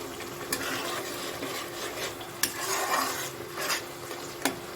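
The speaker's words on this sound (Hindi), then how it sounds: "तो देखिए प्याज और अदरक मेरा अच्छे से फ्राई हो गया है।" Onion and ginger fry with whole spices over high heat. A continuous sizzle runs under occasional stirring and a few sharp clicks of the utensil against the pan.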